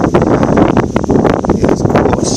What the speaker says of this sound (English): If you can hear the wind blowing here